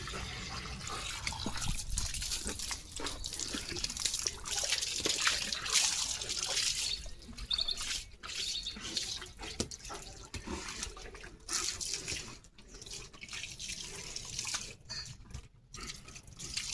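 Water splashing and trickling from a running hose pipe, fluctuating and close, with faint dripping sounds and no clear speech.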